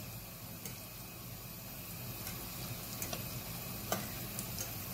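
Almond and honey briouates fry in a pan with a soft, continuous sizzle and occasional small pops and ticks, steady and fairly quiet.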